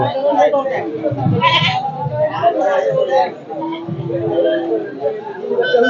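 Goats bleat repeatedly amid a crowd at a livestock market, their calls mixed with people talking and bargaining nearby in a busy, noisy setting.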